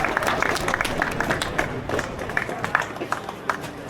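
A street protest crowd in Glasgow against digital ID cheering and clapping after a speech, dense applause and shouts carrying on steadily with a voice faintly underneath.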